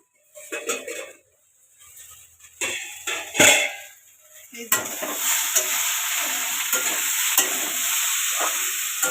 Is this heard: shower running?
no